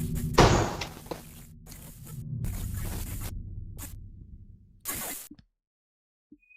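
A door in a house bangs shut with a sharp thud, followed by rattling and scraping noises. Bursts of hiss come and go, and then everything falls to sudden silence.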